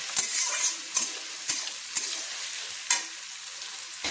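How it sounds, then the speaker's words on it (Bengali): Onions fry in a pan over a medium-high gas flame, giving a steady sizzle punctuated by several sharp scraping stirs at regular intervals. "হাই টু মাঝারি ফ্লেমে করে দিয়ে আমি লাল লাল করে ভেজে নিচ্ছি।"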